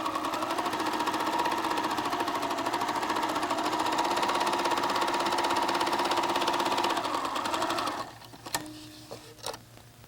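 A White Model 9800 sewing machine runs an overcast stitch along the raw edge of fabric, a steady, close, loud mechanical whir lasting about eight seconds before stopping, followed by a few small clicks.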